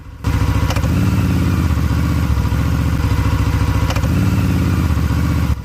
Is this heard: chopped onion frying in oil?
no